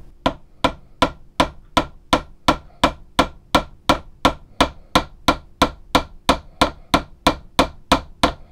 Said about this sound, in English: Now I've got to turn these little bolts into rivets, essentially. So yeah, so just gently peen it over now.